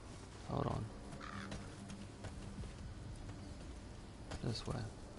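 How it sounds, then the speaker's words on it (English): Crows caw in the video game Metal Gear Survive: two rough, fairly distant calls a few seconds apart over a low ambient game backdrop. "I can only hear crows at the moment."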